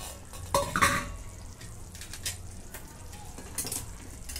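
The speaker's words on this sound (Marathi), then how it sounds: "आता ग्रेव्ही ही अजून शिजून देते. एक 5 मिनिटं मी शिजवून घेतली ग्रेव्ही." Paneer masala gravy simmering and being stirred in a pan, with soft bubbling sizzle and a few scraping, clinking utensil hits against the metal near the start, fairly close and moderate in level, no talking.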